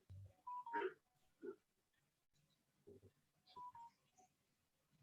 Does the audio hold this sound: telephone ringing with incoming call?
yes